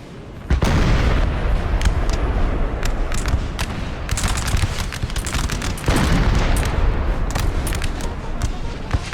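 Napoleonic battle in Napoleon Total War with booming artillery fire: repeated heavy cannon blasts and sharp reports come in a dense, irregular barrage over a constant rumble of battle noise.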